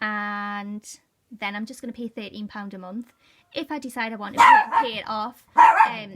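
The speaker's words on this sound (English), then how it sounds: "that is my dog barking" A pet dog at home barks in a few sharp bursts that stand out over someone talking steadily nearby.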